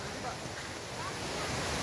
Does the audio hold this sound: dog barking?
no